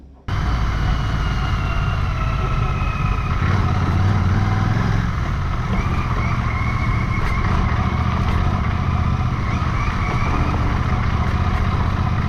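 A motorcycle rides a Himalayan mountain road toward Jispa, its engine a steady, loud drone mixed with wind rush, continuous throughout with no talking.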